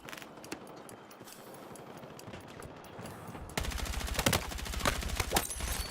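Video game gunfire in Helldivers, scattered single shots at first, then a loud sustained burst of rapid automatic fire with heavy thumping low end.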